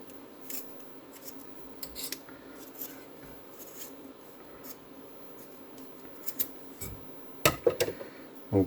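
Water cooling pipe for a multi-GPU mining rig is cut to length: faint rustling and handling, then a cluster of crisp snipping crunches near the end.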